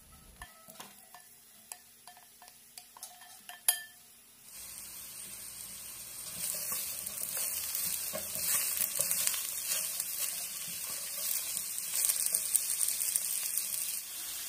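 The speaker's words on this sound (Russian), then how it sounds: "В разогретое масло добавляем лук и готовим до прозрачности." Chopped onion sizzles and fries in heated oil in a small pot, a steady loud hiss starting a few seconds in after quieter stirring clicks and knocks.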